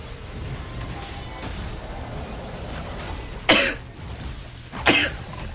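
Two sharp, loud coughs about a second and a half apart, standing out close over a low steady background murmur.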